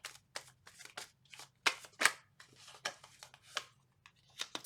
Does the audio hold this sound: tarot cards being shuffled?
yes